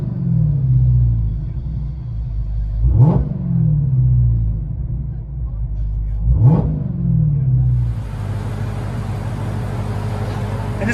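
Inside the cabin of a Dodge Charger Hellcat with the 6.2L HEMI V8 and aftermarket exhaust, the engine rumbles at idle and revs sharply twice in quick sweeps before settling back into a deep, steady burble.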